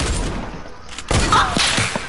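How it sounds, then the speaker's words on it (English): Sniper fire in a roleplay video game: a few sharp, cracking shots ring out in quick succession over a low background hum. "He's shooting you, General."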